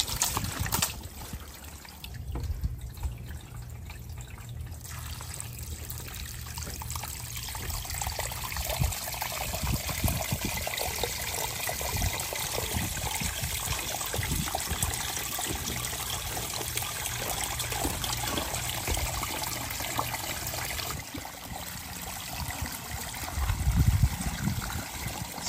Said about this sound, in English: Let's go ahead and let's add water to this dual wall pipe and see how the interior performs.